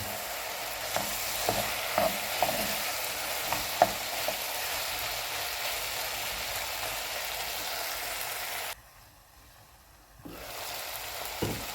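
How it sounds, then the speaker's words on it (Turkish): Steady sizzling and crackling of mushrooms and chicken frying in a hot pan, with occasional stirring clicks; the sizzle drops away briefly near the end, then resumes. "Biraz da mantarlarla kavuralım."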